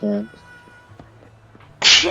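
A single sharp sneeze bursts out abruptly at the end, close and loud, after a short spoken word and a quiet pause.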